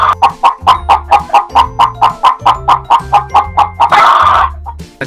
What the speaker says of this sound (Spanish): ¡La gallina! Eso, muy bien, la gallina.